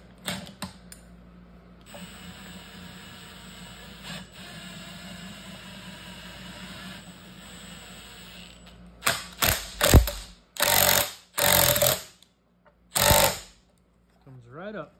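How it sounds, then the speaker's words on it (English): A large OTC puller forcing apart the sealant-locked flanges of an NV5600 manual transmission, a steady mechanical hum followed by a series of loud, harsh creaks and metallic grinding bursts up close. "So we have this big OTC puller."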